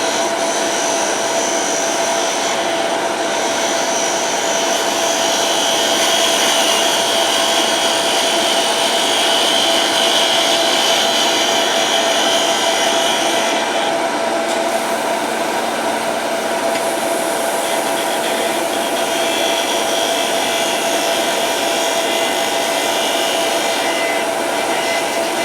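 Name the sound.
wood lathe smoothing cut on a coffee scoop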